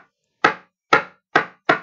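Four sharp, loud knocks on a surface come in an uneven rhythm, each a crisp close strike with a quick decay, separated by brief silence.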